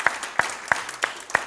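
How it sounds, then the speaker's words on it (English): A church congregation gives five sharp hand claps in a slow, steady beat, spaced about a third of a second apart, fairly close with a faint room tail. "Give the Lord a hand clap."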